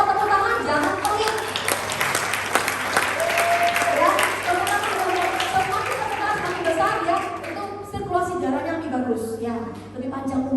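A seated audience at a collagen health talk claps steadily for several seconds, with a speaker's voice in Indonesian continuing over and after the applause as it fades.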